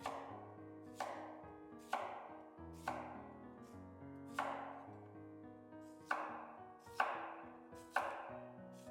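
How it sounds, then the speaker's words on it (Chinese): Knife cutting a peeled sweet potato into thin slices on a board, about nine crisp, evenly spaced chops roughly one per second, each a sharp thud with a short ringing decay, close and clear with no voices. "削好之后给它切成薄片，尽量切薄一点"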